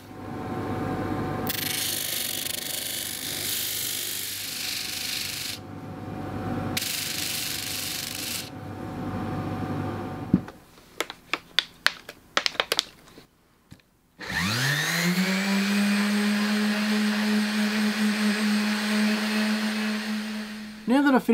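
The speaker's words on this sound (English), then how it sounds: "Now that I've finished sanding and polishing," Rubbing and sanding of a resin-cast egg by hand, a steady abrasive scrubbing in long bursts, then a short run of sharp taps and a whirring polishing motor spinning up and holding a loud, steady hum close by.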